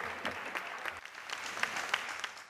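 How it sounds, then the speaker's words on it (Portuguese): Applause from an award ceremony audience at the Xantar event in Ourense follows a gold medal presentation, a scattered, moderately loud patter of clapping with a few sharper claps standing out. "Un aplauso."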